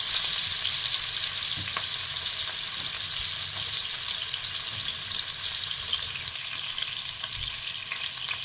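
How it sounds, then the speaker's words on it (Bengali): Hilsa fish frying in oil in a pan over a medium-low flame for shorshe ilish, a steady dense crackling sizzle that holds evenly throughout, close and fairly loud, with no voices. "ওইভাবে আমি মাছটাকে একটু লালচে করে ভেজেছি"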